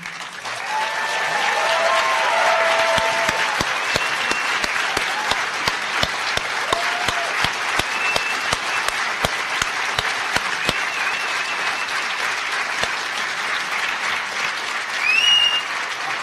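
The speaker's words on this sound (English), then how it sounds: "there are some of you who felt you didn't applaud enough for Daniel's amazing speech." A conference audience at HOPE X breaks into sustained applause, a dense steady clatter of many hands clapping that carries on for about fifteen seconds, with a few stray whoops over it and no talking.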